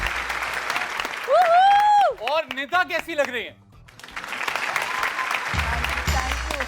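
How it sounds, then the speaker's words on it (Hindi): A studio audience at a Pakistani couples' talk show breaks into loud, dense clapping at the start and again near the end, with a voice speaking during the break between the two bursts. "मैं यार सब जरा जितने भी लोग यहाँ तालियां बजा के बताओ"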